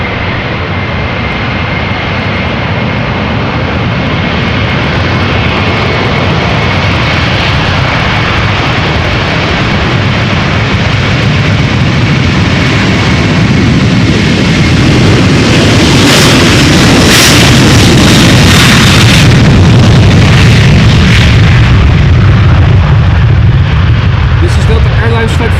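Loud, sustained jet roar from an Airbus A330-300 departing Amsterdam Schiphol for New York JFK, swelling steadily and peaking late as the airliner passes close, with no talk over it.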